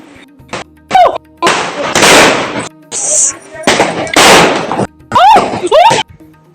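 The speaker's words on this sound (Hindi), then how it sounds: "मेरा बेटा बाहर पटाखे चला रहा था" Loud Diwali firecrackers burst in quick irregular bursts of crackling pops, some whistling and hissing rockets between, close and sharp against a quiet background.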